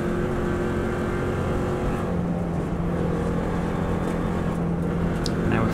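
A Subaru race car engine held at full throttle in sixth gear on a road course, a steady loud droning roar that barely changes pitch, heard from on board with wind rush and no talking.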